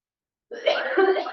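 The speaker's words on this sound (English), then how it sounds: "Will I cough this out?" A single harsh cough burst after a moment of silence, close and fairly loud, with a rough throaty rasp trailing off.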